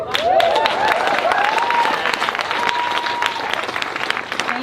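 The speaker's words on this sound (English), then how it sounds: "Can everyone please give an amazing round of applause for these women?" Sustained audience applause at a mountain-bike festival panel talk, dense steady clapping from a crowd that carries loudly throughout, with a voice briefly audible at the start.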